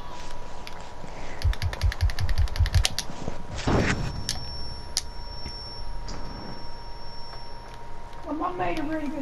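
Rapid rifle fire in the tactical shooter Rainbow Six Siege, a quick string of loud close shots followed by scattered single shots, with players talking over the action.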